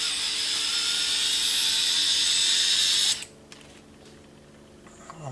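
Rebuilt FPV drone motors spin at a steady high-pitched whine after arming with a little throttle, then cut off abruptly, leaving a quiet hum and faint clicks.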